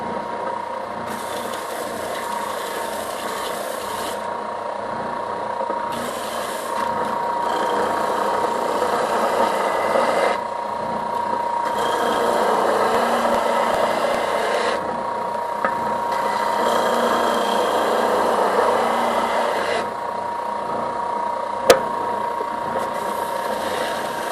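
A Ridgid oscillating sander runs steadily on a woodworking bench, a loud continuous mechanical buzz and rasp with slight shifts in load as it works, and no talk over it.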